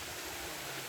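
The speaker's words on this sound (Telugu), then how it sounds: "చూడండి వాటర్ ఫాల్" Waterfall at Bhairavakona, a steady close rush of falling water filling the whole short stretch with broad, even hiss and no pause.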